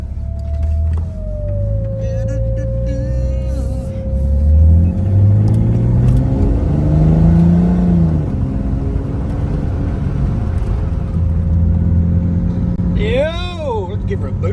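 Car on its first drive after registration, with a blocked cylinder head gallery, heard from inside as a loud engine drone that rises in pitch through the gears as it accelerates, with people talking over it.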